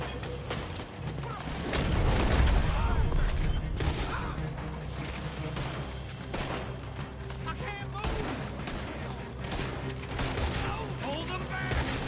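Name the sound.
gunfire in Red Dead Redemption 2 video game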